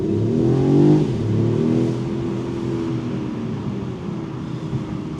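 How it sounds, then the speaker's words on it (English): The inline-six engine of a 2025 Mercedes-Benz CLE 450 Cabriolet pulls smoothly under acceleration, a steady rising high-pitched hum heard from inside the car with no talking. "the engine sounds will be restored to the familiar, high-pitched, beautiful inline-six tone"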